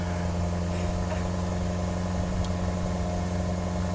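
Maserati engine idling just after start-up, a steady low rumble with even mechanical hum, continuous and close with no pauses.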